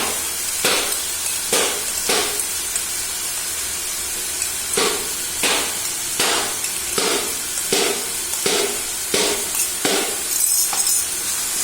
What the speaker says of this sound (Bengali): এবার কষাকষি চলছে, এটাকে বেশ ভালো করে কষতে হবে।